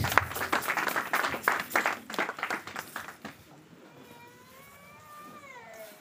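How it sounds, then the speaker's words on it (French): A church congregation claps in praise after a sermon reading, several seconds of lively mixed clapping that fades out, then a quieter stretch with a faint wavering tone. "Est-ce qu'on peut acclamer pour la parole?"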